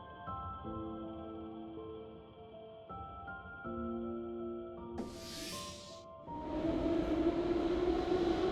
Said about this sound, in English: Train is departing, sisters.